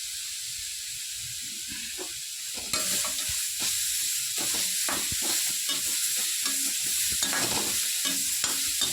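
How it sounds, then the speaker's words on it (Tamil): Ingredients for carrot chutney frying and sizzling in oil in a pan, with steady hiss and repeated scraping stir strokes throughout, louder after the first few seconds. "கொஞ்சம் வதங்கட்டும், காட்டுறேன்."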